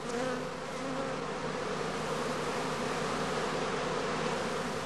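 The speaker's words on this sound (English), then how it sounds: "the prime swarms have to be caught directly on leaving the skep" Honeybees massing at a straw skep before swarming, a dense, continuous buzzing hum of many insects, close and steady throughout with no voices.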